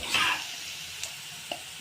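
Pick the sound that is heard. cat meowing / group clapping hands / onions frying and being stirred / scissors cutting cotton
onions frying and being stirred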